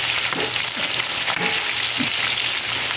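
Marinated chicken necks fry in a pan with a close, steady sizzle and bursts of crackling oil pops.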